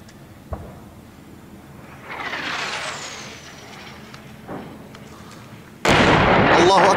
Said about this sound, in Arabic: قصف الرستم بالطيران الحربي والمدفعية الثقيلة.